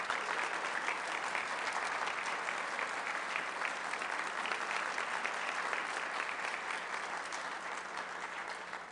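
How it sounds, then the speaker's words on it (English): Rotary Club of Denver audience giving a big round of applause for a guest, dense continuous clapping from many hands, steady and loud throughout, fading slightly at the end. "Please give Taylor Baldwin a big round of applause."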